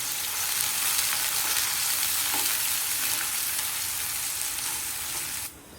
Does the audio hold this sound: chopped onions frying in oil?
yes